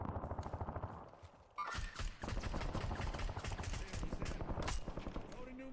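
Bursts of rapid automatic Model L rifle fire ring out during a Call of Duty Warzone match, dense and close. A short pause comes before a long, sustained volley, with voices talking faintly underneath.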